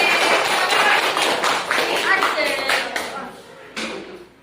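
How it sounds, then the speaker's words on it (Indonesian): Classmates in a school classroom clap for a group of students, a burst of close, dense clapping that thins out and fades toward the end, with voices mixed in. "Beri aplaus dulu kepada kelompok 1."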